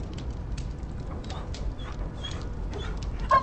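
A dog in the video game Dragon Age: Origins whimpers in soft, high, faint yelps scattered over a low background hum, with one clearer whine near the end.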